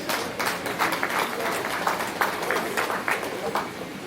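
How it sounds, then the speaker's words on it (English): A seated audience gives a round of applause, a steady wash of many hands clapping at moderate distance for about four seconds, with faint voices mixed in. "let's give him a round of applause"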